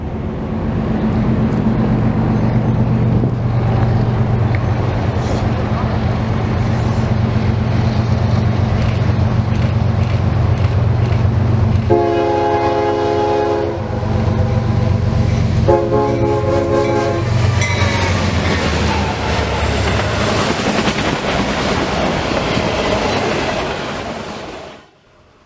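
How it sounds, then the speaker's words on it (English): CSX autorack freight Q262, led by locomotives with an SD40-2 trailing second, rolls past loudly on the Mohawk Subdivision, a steady engine drone and rail rumble broken by two sustained chord horn blasts midway before the sound fades out. "Next up was Autorack train Q262."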